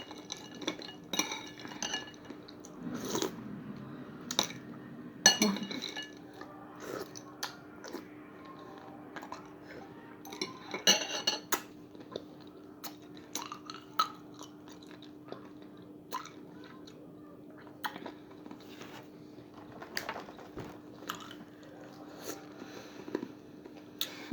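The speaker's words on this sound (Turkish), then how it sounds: "Şu an öğle yemeği yiyorum." Lunch being eaten with cutlery: soft chewing alongside sporadic clinks and scrapes of utensils on a plate, close and fairly quiet, with no talking.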